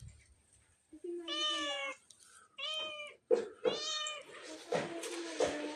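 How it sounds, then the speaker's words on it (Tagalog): A frightened cat meows repeatedly, several loud drawn-out cries close by after being scared by floodwater, with brief voices and rustling between them. "Natakot ang pusa."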